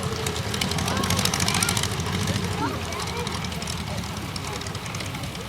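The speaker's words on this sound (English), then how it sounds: "sets the triplane down a perfect 3-point landing" An antique triplane touches down in a three-point landing at an air show in Rhinebeck, New York, its engine droning steadily at moderate distance while a commentator talks over it.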